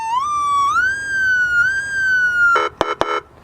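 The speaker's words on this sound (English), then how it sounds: "we have a siren that we're going to install in the front of the vehicle" Police car siren unit being tested before installation in the front of a vehicle, controlled from a separate box, kept at low volume: a steady rising and falling tone holding near one pitch, then a few sharp, brief yelp bursts at the end.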